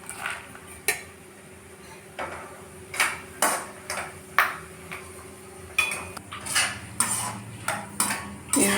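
Sliced almonds and cashews fry in a pan for kheer while a metal spoon stirs them, giving irregular clinks and scrapes against the pan over a faint sizzle, close and without speech.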